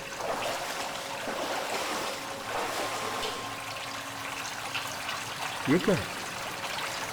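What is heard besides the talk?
water flowing through a gutter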